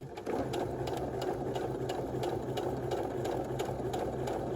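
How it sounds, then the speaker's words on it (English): A sewing machine stitches in the ditch along a waistband seam, its steady motor whir and rapid needle rhythm running continuously at close range for several seconds. "I'm going to take it to the machine and I'm just going to stitch in the ditch along that seam line"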